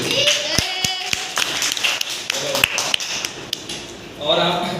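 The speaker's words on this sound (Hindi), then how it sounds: "तो चलिए ताली बजाइए इसके लिए।" Children in a classroom clap together, a series of sharp, separate claps and taps heard up close, irregular at first and then a brief denser burst near the end, with a voice speaking around them.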